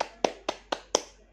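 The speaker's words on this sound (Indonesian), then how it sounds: "kita sambut dengan tepuk tangan yang paling meriah seorang pengasuh kita" Four sharp, evenly spaced hand claps ring out close and clear within about a second, a small, sparse burst of applause welcoming a caretaker at a children's event.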